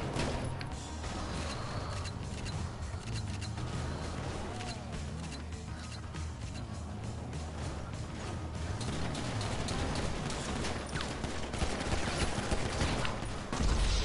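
Rapid machine-gun bursts and gunfire from a PS4 shooter game, dense and continuous across the whole stretch, loud and close, with scattered crashes and mechanical clatter and no voices.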